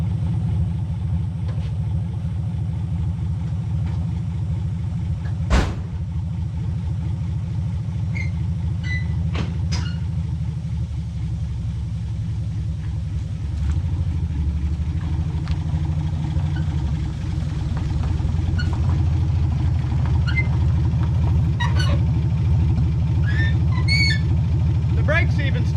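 A 1954 Chevrolet Bel Air straight-six engine runs steadily, a deep continuous rumble with a few sharp clicks and faint rattles over the top, held close and loud throughout.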